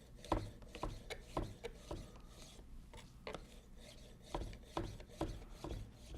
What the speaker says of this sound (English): I like to use my slicer for mushrooms.